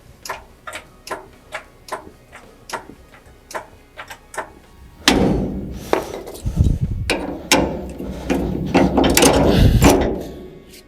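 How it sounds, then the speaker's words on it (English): A ratchet tightens the U-bolts on the rear axle of a C10 pickup, starting with spaced single clicks and building into dense, loud clattering ratcheting up close, with no talking. "Got the U-bolts cranked back down."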